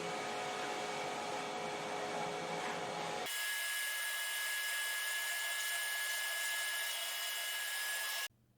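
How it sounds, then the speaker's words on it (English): An old vacuum cleaner fitted with a cyclone attachment, used for clearing chips from a DIY CNC router, runs with a steady loud whine and roar, its pitch shifting partway through, then cuts off abruptly near the end. "It really does help to have a cyclone vacuum to clean everything from chips."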